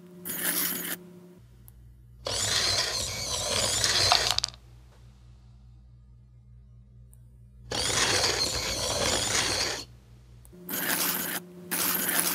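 A homemade helix bean-feeding mechanism turns in two long runs of close, steady ratcheting and gear-like clatter, separated by quiet pauses, with brief shorter bursts at the start and end.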